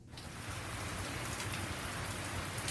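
Rain falls outside in a steady, dense hiss of drops striking surfaces, constant and fairly loud, with no talk.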